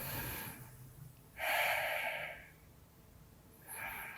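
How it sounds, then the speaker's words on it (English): A man snores loudly nearby, one long rasping breath followed by a pause, then another starting, over a faint steady background hum. "Damn, he snores."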